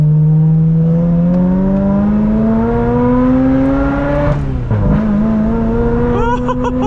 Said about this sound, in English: That is just the best sounding Ferrari sound.